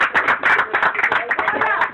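A church congregation claps along in a quick, uneven patter of many hands for about two seconds, loud and near, with faint voices mixed in.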